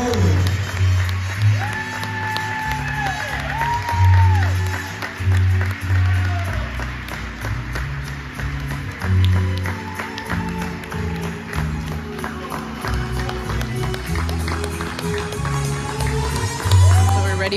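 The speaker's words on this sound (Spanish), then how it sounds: "Recibámoslos con un fuerte y caluroso aplauso, por favor." Wedding guests clap for the couple at the reception, a dense, sustained patter of many hands under loud music and crowd voices.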